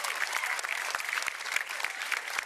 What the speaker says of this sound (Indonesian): Kita beri tepuk tangan yang meriah untuk Inyoman Adiferi.